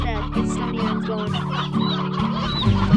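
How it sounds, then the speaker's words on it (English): Stony hens in the video game Slime Rancher cluck continuously, with a dense, steady flock of chicken-like clucks close by and no talking heard. "Stony hens, I can't believe I just found stony hens."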